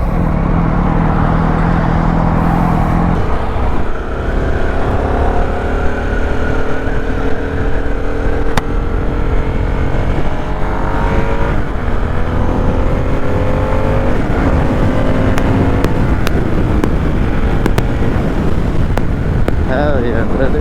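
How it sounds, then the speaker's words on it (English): A Harley Sportster motorcycle runs at highway speed, with a loud, continuous engine drone and rising gear pitches under heavy wind rush, close up and steady throughout. "we're on my uncle's Harley Sportster, and we about to be out, brother"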